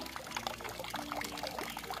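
A little water poured into a container to mix with a poultry vitamin powder for backyard chickens, a steady soft trickling splash running throughout at close range.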